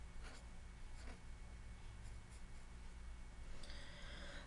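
Numbers are written down by hand while working a slope-of-a-line problem, with faint intermittent scratchy strokes against a steady low hum and no talking.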